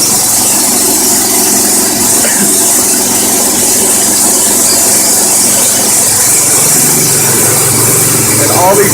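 A homemade 12-volt generator engine runs at maximum idle, a loud, constant, close droning hum with a faint squeal and a slight shift in tone near the end.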